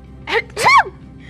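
A single quick sneeze, a sharp intake followed by an explosive burst, close and fairly loud.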